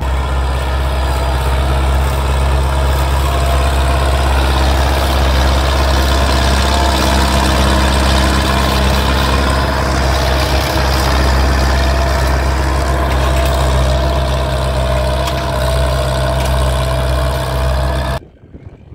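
A heavy Valmet 880 tractor engine runs steadily and loudly throughout while planting corn with a 4-row Tatu planter, a deep droning rumble, cutting off abruptly at the very end.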